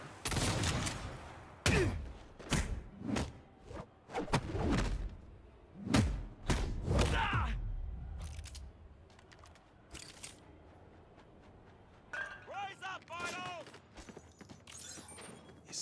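A minigun firing in Saints Row, heard as several loud, rattling bursts with gaps between them, followed by quieter scattered impacts and other game sounds, with speech in places.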